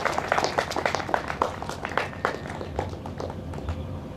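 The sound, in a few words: audience applause welcoming at a Bhagavat Katha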